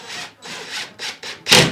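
A drill bores into a studio wall while searching for a stud, five rasping, grinding bursts close and loud, separated by brief pauses, the last one the strongest.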